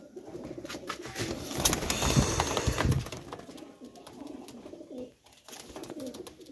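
Pure Sakhi Teddy pigeons in a home loft coo in deep, throaty, repeated rolls, close and continuous against a busy background hiss.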